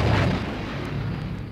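Darth Vader's ship blows up in a Star Wars sound effect, a loud, deep rumbling blast that dies away into a low roar over about a second and a half.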